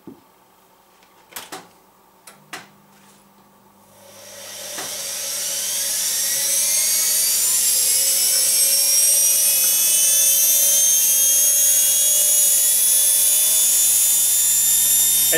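Small electric motor running from an isolation transformer, a few clicks and bumps before it starts, then a high whine that climbs steadily in pitch and loudness as it speeds up and settles into a loud steady scream.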